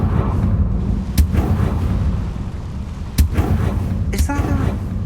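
A Confringo blasting spell fires in the Hogwarts Legacy game, two sharp booming cracks about two seconds apart over a steady low rumble, followed by a brief spoken voice near the end.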